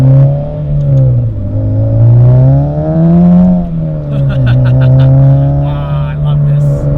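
A Mugen Integra Type R with a K20A engine revs steadily and climbs toward VTEC, its loud harmonic engine note rising and falling continuously up close for several seconds.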